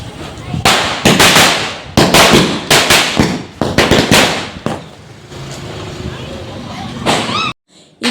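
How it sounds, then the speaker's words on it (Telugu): Loud Diwali firecrackers go off in irregular bursts of sharp, crackling bangs close by, with voices in the background between blasts. "అక్కడ కూడా ఇంకా పేల్చురా పెద్ద టపాసులు"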